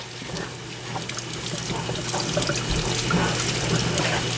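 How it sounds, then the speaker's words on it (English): Cabbage rinsed under a running kitchen tap for sauerkraut, a steady broadband stream of water splashing into a sink, close and continuous, with a low hum beneath and no voices. "Give it a good rinse off, wipe off."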